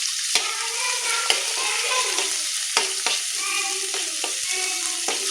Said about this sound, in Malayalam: നമുക്കിതാ ഈ ഉള്ളിയും പച്ചമുളകും ചെറിയ ഉള്ളിയും വെളുത്തുള്ളി എല്ലാം ഇടാം